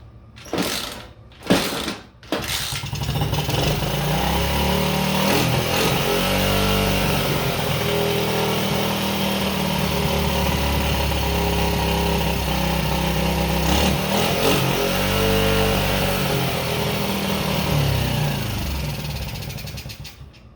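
A pit bike engine with a carburetor still needing tuning and a sticky throttle catches after a few loud starting bursts, then idles and revs unevenly, close and loud throughout.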